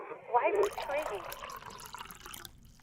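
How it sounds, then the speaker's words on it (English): A voice in the video game Disco Elysium warped by static and a submerged underwater effect, gurgling, watery and muffled for a couple of seconds before fading out. "A spot of static overrides her words. When she speaks again, it sounds like she's submerged."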